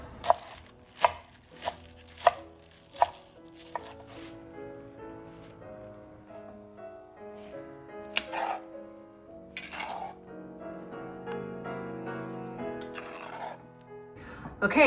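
Fresh spinach chopped on a board with a knife, about six sharp evenly spaced cuts near the start, followed by softer rustling and light kitchen clatter.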